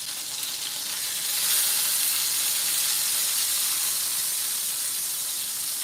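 Pork steaks sizzle and fry steadily in a skillet, a continuous close hiss with slight crackle that swells a little after the first second and holds without talk.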